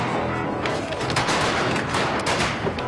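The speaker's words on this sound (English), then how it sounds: "It is interrupted by gunfire." Gunfire from the film Dead Man as train passengers shoot buffalo, a dense, continuous rattle of overlapping shots under a loud, rumbling, noisy background with no clear gaps.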